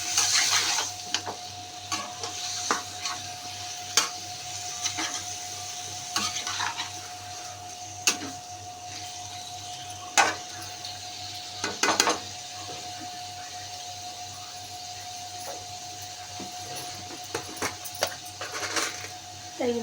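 Skinless chicken pieces fry in a pan for a home chicken curry, a soft continuous sizzle broken by scattered sharp clinks and stirring scrapes of a utensil against the pan, fairly quiet throughout with no talking.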